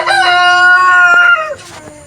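A crossbred rooster gives one loud, close crow lasting about a second and a half, with a drawn-out call that trails off at the end.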